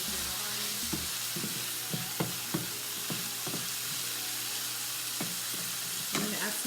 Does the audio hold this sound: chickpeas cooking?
yes